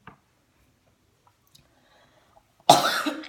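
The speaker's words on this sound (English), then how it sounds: "I've got like such a terrible cough." Near silence broken by faint small clicks, then a single loud, harsh cough bursts out close by near the end.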